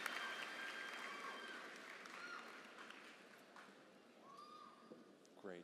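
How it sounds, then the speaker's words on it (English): Audience applause at a high school graduation ceremony, a faint crowd clapping that fades out over a few seconds, heard from a distance in a large space. "Give her one more round of applause as she makes her way up here."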